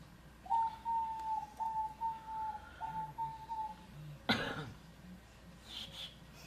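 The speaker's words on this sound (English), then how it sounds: "My bird sings you a lovely song this morning." A pet bird sings indoors in the morning, a thin, steady whistled note held over several seconds with brief breaks, moderately close, followed by a sharp broadband burst like a cough.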